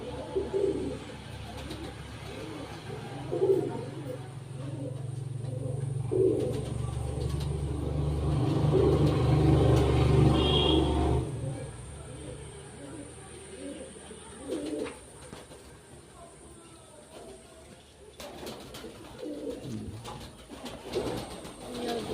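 Several Teddy pigeons coo in low, throaty bursts, loudest during a swell in the middle, over a background rumble of passing traffic. Someone speaks at times nearby.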